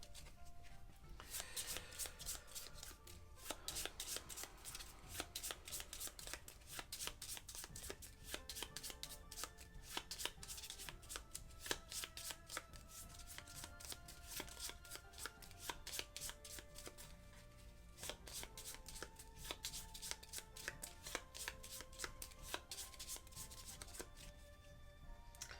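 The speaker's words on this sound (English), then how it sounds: "and now we need to shuffle." Playing cards shuffled during a tabletop session of the board game Architects of the West Kingdom, a steady run of crisp riffling and card flicks going on continuously, fairly close and moderately loud, with no talk over it.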